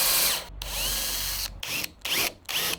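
A power drill cuts a countersunk dowel hole in wood for a van slide-out kitchen, with a long loud whirring run followed by three short bursts separated by brief pauses, close and without talk.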